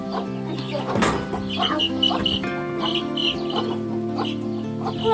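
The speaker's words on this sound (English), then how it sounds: "Going there to see the baby chickens?" Baby chicks and chickens cluck and chirp steadily nearby, with high peeping calls over a continuous background hum and a sudden clatter early on.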